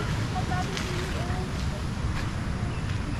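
A small motorboat engine runs steadily near Malatap, Labo, its low continuous drone mixed with wind and water noise throughout, with faint voices in the background.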